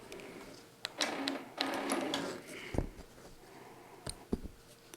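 Computerized quilting machine with a Pro Stitcher running tie-off stitches on a June Tailor dog mat, giving short bursts of rapid mechanical stitching separated by quieter pauses, close and moderately loud.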